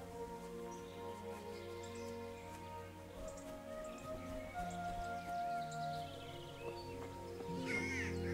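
In Kingdom Come: Deliverance, crows caw faintly in the distance against a steady outdoor ambience with a low hum, a few scattered calls rising near the end.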